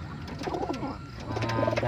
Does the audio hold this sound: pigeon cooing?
yes